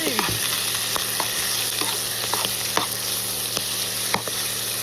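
Maggots frying in a hot pan crackle and sizzle loudly with repeated sharp pops like popcorn, scattered irregular bursts over a dense continuous hiss, close and without speech.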